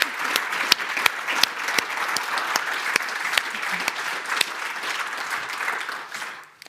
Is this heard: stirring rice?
no